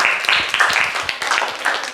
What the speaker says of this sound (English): Give applause to Naira's team